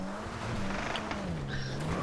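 An off-road car in GTA V drives with a steady, wavering engine drone, and brief tire chirps from skidding break in near the end.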